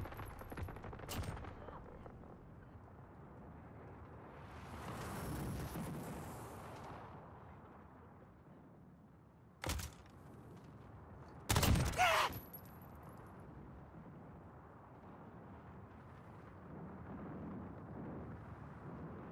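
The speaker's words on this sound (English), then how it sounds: "Dropping white phosphorus." A white phosphorus airstrike lands in Call of Duty Modern Warfare: a rising rush, then a few sharp, heavy blasts and bursts of gunfire breaking through quiet battlefield ambience.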